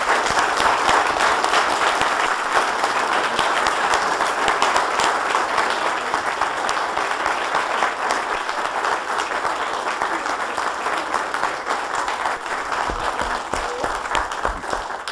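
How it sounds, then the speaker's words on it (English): At a city council meeting in La Vergne, the audience gives a long, steady round of applause that stays full and even for the whole stretch. Scattered individual claps stand out near the end. "Can we give them a round of applause?"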